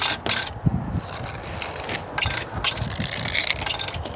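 A pressure washer hose reel winds a hose back in, producing a continuous rattling, ratcheting mechanical whir with irregular clicks, fairly close and steady for several seconds.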